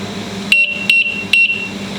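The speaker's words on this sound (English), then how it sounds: "And I'm going to set my timer" A kitchen timer beeps three times in an evenly spaced series of short, sharp electronic tones, clear and close against a low background hum, while produce is being preserved.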